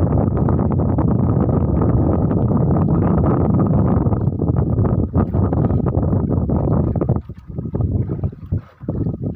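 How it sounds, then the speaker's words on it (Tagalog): Strong wind roars across the microphone in heavy continuous gusts, loud and close, easing briefly near the end. "Lalong lumakas ang hangin, ah."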